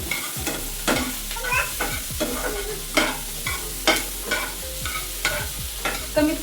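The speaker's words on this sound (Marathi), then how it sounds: "भाज्या परतून घेते थोडा वेळ." Vegetables sautéing in a pan, with repeated rhythmic stirring scrapes over a steady sizzle, close and clear.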